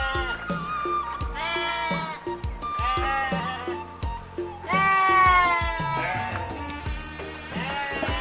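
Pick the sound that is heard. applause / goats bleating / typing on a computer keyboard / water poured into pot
goats bleating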